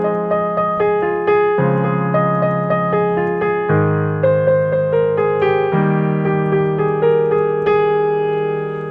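A synth-led melody from a song plays alone, with sustained chord-like tones stepping through a steady, bright progression at a constant loud level.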